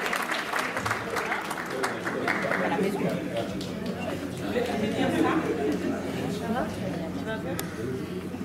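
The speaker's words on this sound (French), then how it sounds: "Applaudissez s'il vous plaît." An audience applauds for several seconds at a French-speaking gathering. The clapping is mixed with crowd chatter and a voice talking over it.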